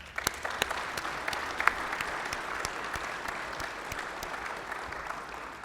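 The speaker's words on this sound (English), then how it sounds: "So let's give them a round of applause." A symposium audience at a defense conference on nuclear modernization gives a round of applause, a steady, moderately distant wash of many hands clapping with a few sharper individual claps standing out, and no talk over it.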